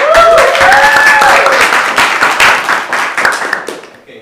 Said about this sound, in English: Alright, let's give a cheer.